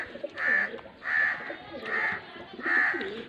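A breeder pair of Faisalabad pigeons cooing in four evenly spaced, swelling phrases close by, each a soft rolling coo with brief pauses between.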